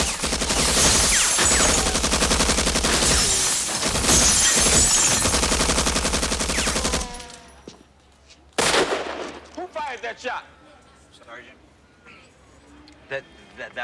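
A rapid burst of gunfire crackles loud and dense for about seven seconds. It breaks off, and after a pause a single sharp shot rings out, followed by scattered voices.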